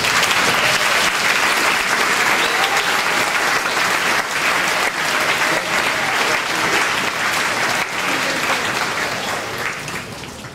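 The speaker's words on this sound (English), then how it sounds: "One final round of applause to Jim Dawes and Dianna Shandy for sharing our story" A convocation audience gives a loud, sustained round of applause for the committee members who helped select the book. The dense clapping fills the whole stretch evenly and tapers slightly at the very end.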